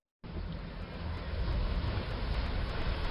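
Steady ocean surf along the Indian coastline, a dense, continuous wash of breaking waves with wind rumble starting abruptly and swelling slightly louder, no voices.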